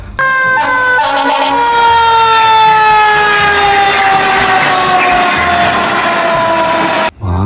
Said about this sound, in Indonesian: Wow, yang ini mobil water cannon.